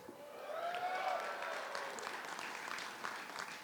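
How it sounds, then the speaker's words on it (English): Crowd at a professional hockey game in Greensboro applauding and cheering, a steady moderately distant roar of clapping and voices with a faint whistle early on. "Wow, what a crowd."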